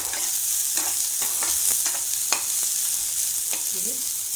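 Chopped onion and garlic fry and get stirred in a pan for a Chinese-style pasta dish: a steady, close sizzle runs throughout, broken by repeated scraping strokes of a spatula, with no talking.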